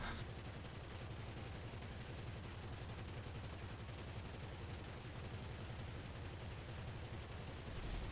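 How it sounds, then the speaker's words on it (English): Machine guns on a Conada helicopter in a GTA video game fire continuously, a dense, even rattle of rapid shots lasting about eight seconds, fairly quiet overall with no speech. "the Conada's machine guns are pea shooters in comparison"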